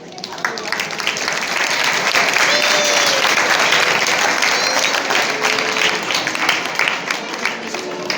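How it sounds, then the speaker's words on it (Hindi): Sustained applause from an audience at a school prize-giving ceremony, a dense, even wash of clapping that holds steady throughout, fairly distant and without speech on top. "ताली बजाइए।"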